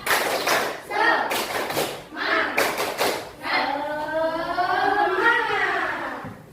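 A group of schoolchildren in an Islamic classroom lesson performs a rhythmic clapping chant, with sharp sets of claps mixed with voices chanting together, fairly close and lively.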